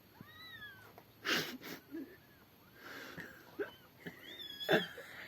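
Several cat meows ring out in separate calls spread across a few seconds, some drawn-out and wavering, others short, fairly close with quiet outdoor background between them.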